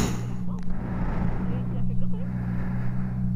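A motorcycle rolls along at steady, low revs without acceleration, its engine a continuous close drone with some water or road noise around it, while people talk over the top.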